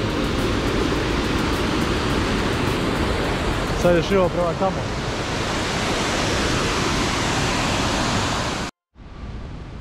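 A steady, loud roar of falling water from the waterfall in Jajce, Bosnia, a broad constant rush that fills the scene, with a person talking over it briefly.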